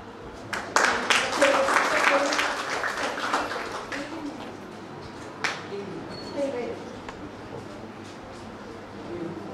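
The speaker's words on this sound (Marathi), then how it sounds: "सर्वांनी जोरदार टाळ्या वाजवायच्या" A school audience bursts into applause at a prize announcement for an interschool mathematics competition in Karad, clapping densely for about two seconds before tapering into scattered claps and a few later bursts.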